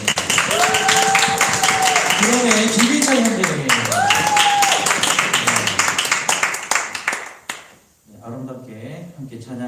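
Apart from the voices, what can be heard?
audience applause during church worship service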